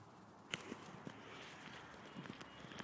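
Horses move nearby, hooves clip-clopping in a loose uneven rhythm, quiet and slightly distant over outdoor background noise.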